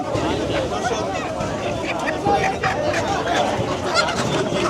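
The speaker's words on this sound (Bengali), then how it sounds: "এদিকে মুরগি আসছে দর্শক এ দেখেন চরের মুরগি নিয়ে আসছে" Chickens from the river islands being brought into a busy market cluck and squawk among the crowd, while people talk loudly nearby throughout.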